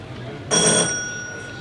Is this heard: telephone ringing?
yes